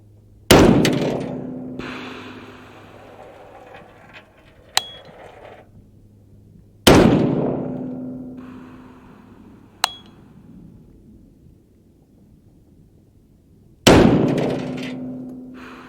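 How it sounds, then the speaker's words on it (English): A 350 Legend rifle firing Barnes TSX solid copper bullets at a range, three sharp loud shots spaced about seven seconds apart, each with a ringing decay and a faint metallic ping shortly after. "We're going to be shooting 23 grains even on the lower right target."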